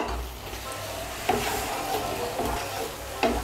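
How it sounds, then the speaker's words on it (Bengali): Sugar and green chillies get stirred into a taro curry in a frying pan, a close sizzle broken by a few sharp scrapes and knocks of the utensil against the pan. "চিনি আর কাঁচা লঙ্কাগুলো ভালো করে মিশিয়ে নেব।"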